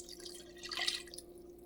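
Water pouring into a large pot of homemade chili with tomato paste, a soft liquid splash and trickle swelling briefly in the middle, faint against a steady low room hum.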